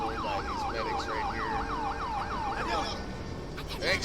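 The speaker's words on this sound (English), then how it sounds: "Alright, bud, we got an ambulance here." A wailing ambulance siren from GTA 5 sweeps up and down in a steady, repeating cycle. It sounds close and loud and carries no talk, then cuts off before the end.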